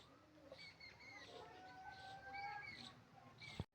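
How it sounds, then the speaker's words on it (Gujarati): Pigeons coo inside a farmyard well, soft rolling calls that are faint and echoing, repeated over quiet background noise and ending on a brief sharp knock. "આ કૂવામાં કબૂતર બોલે છે"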